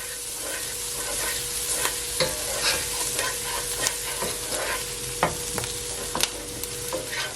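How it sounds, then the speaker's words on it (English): Jerk honey lamb chops fry in a pan with rosemary, thyme and scallion while being stirred. A continuous sizzle runs underneath, broken by repeated scraping strokes and clinks of the utensil against the pan. "I'm gonna give it a stir. I'm gonna also add my rosemary and my thyme with my scallion."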